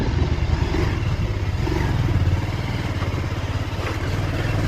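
A 220cc motorcycle engine drones steadily at close range while riding on the old Aluva–Munnar road, with rough low rumble and rattling, no voices.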